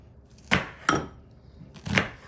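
Three sharp knife chops through a yellow onion on a cutting board, close and distinct, spaced unevenly with quiet gaps between strokes.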